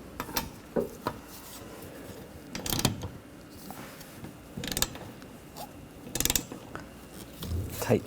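Ratchet clicks in short bursts as nuts are tightened down on a Ford Escape, a few separate clusters of metallic ratcheting spread across a quiet garage background.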